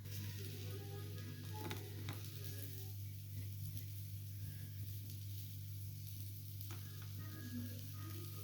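Poriappam batter balls frying in boiling coconut oil, a steady close sizzle with occasional stirring scrapes and clinks from the pan, under a constant low hum and with no talking.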